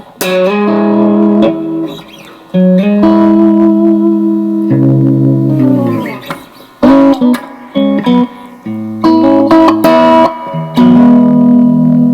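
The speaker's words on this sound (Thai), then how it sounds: "ผมจะเพิ่มรีเวิร์บนิดนึงนะครับ" Electric guitar with a touch of added reverb, played alone in clear harmonic notes and chords that ring out with sustained decaying tails, loud and close throughout with short pauses between phrases.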